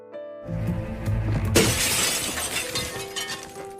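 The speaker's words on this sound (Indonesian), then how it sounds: "Sahra langsung melempar kaca pintu menggunakan helm hingga pecah." A loud crash of a glass door pane shattering when struck by a helmet, followed by the scattering tinkle of falling shards and debris over a low background hum.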